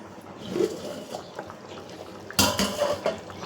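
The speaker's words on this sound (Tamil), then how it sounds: "இப்போ வாங்க மூடியை திறந்து பார்ப்போம்." A metal lid lifted off a cooking pot of simmering dal and masala with drumstick and mango, giving a sharp clatter near the end after quiet kitchen background.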